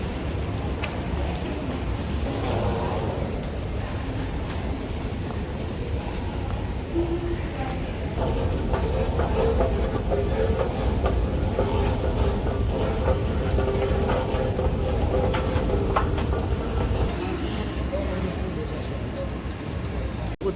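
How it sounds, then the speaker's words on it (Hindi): Busy platform for the inter-terminal train at Dubai airport, a steady rumbling hum of the train and crowd noise throughout, with people talking over it. "So the train is there but rush बहुत ज़्यादा है, so will take the train and go to the other terminal."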